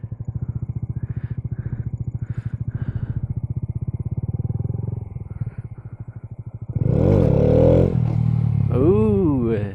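A 2015 Honda Grom motorcycle engine thrums in steady rhythmic pulses at idle and low revs, then roars louder in sharp revving bursts as the bike is ridden for wheelie practice, close and prominent.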